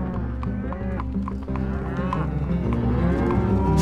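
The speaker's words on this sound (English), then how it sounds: "drive their cattle along US 95" Cattle low repeatedly in a herd being driven along US 95, Idaho's main north-south highway, during a spring turnout; several overlapping moos, near and far, rise over a steady low rumble of moving animals and traffic.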